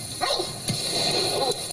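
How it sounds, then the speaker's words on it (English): A police K9 barks loudly in a few sharp, agitated bursts against a steady background hum, with no voices present. "That dog's pissed. That's got to be a police K9."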